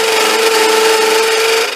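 A machine taking a one-millimeter cutting pass while turned by hand produces a loud, steady scraping whine with a sharp tonal ring, lasting under two seconds with no talk.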